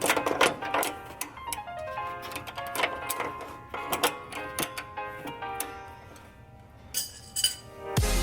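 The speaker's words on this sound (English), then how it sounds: "what you want to do is just unbolt the arm from here." Wrench or ratchet work while unbolting a car suspension arm produces rapid clicking bursts and metallic taps in irregular runs, close and moderately loud, with no talk.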